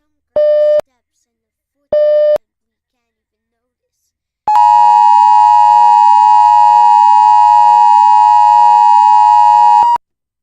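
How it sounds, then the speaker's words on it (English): Electronic EAS weather alert tones: two short beeping bursts followed by a long, loud, steady harmonic attention tone lasting several seconds, with no talk over it. "We have currently interrupted the Fillmore services to bring you this weather alert."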